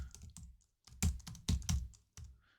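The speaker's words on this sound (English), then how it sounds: "So I'm going to type" Keystrokes on a computer keyboard during a CentOS 8 mirror-list search, typed in short bursts of clicks with a few louder, sharper key hits and brief pauses between them, close and clear with no talking.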